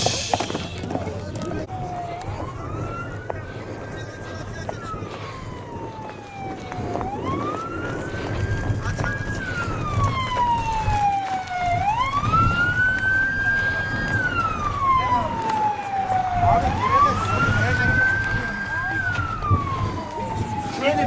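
A wailing ambulance siren rises and falls repeatedly, fairly close, while people shout and talk over the noisy scene at a traditional horse race after a rider's fall.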